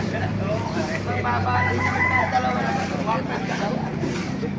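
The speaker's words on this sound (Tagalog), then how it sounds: "marami pang mga manok dito." Chickens cluck and a rooster crows over a busy background of crowd chatter and distant traffic, at a tyangge market in Baliuag, Philippines, with Hiraw and Sweater gamefowl.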